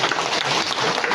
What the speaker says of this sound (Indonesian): Jadi udah tepuk tangan ulang.